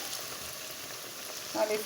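Food fries in hot peanut oil with a steady, even sizzle and hiss that lasts throughout. A slightly louder crackle comes near the end.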